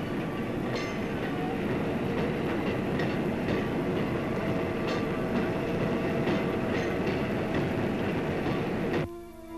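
A train rolling along on the way to Christchurch, New Zealand, a steady loud rumble with rhythmic wheel clatter that cuts off abruptly near the end.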